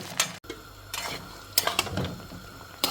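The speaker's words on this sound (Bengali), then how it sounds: "এখন আমি নেড়ে চেড়ে রসুনটাকে একটু ভেজে দিব" Garlic cloves are stirred in a pan of hot oil with dried chillies and whole five-spice seeds, giving a few separate scraping clicks of a spoon against the pan over a soft, steady sizzle.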